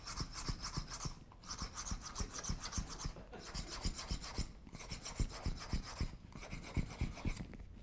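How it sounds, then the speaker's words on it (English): A diamond file grinds a knife blade during hand sharpening, producing fast rhythmic rasping strokes in repeated bursts separated by short pauses, close and steady throughout. "I'm using diamond file first,"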